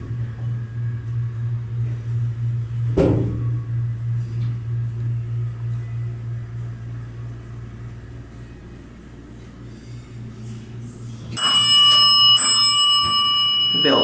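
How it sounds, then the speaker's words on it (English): A dead mall's scenic food court elevator, now used as a freight lift, has its bell ring out loud and close near the end: a bright, piercing repeated ding after a long stretch of low mechanical hum and a single clunk. "The bell is very obnoxious."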